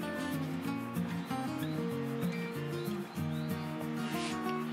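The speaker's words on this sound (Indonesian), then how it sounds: "Dan kita aduk sampai dia homogen." A wood finish mixture for shou sugi ban charred wood is stirred steadily in a container, giving close, repetitive scraping and swishing strokes with no talk.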